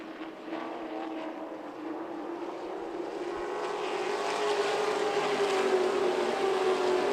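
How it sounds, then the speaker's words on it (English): Stock race cars at full throttle on the Myrtle Beach Speedway, a continuous droning engine roar whose pitch slowly climbs as the cars pass close and loud, with no commentary over it. "Once again, it's going to be Tanner Garrett really having to stay in the throttle."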